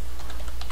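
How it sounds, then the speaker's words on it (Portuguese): A short, quick run of keystrokes typing a Google search on a computer keyboard, several soft clicks in close succession over a steady background hum. "E vamos digitar aqui na busca do Google"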